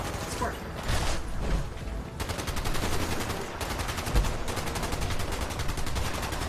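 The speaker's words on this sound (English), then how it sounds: "I'm shooting these guys up on the hill" Rapid automatic gunfire from the video game Fallout 76 rattles on steadily in dense bursts, a sustained mechanical clatter mixed with game effects and faint voices beneath.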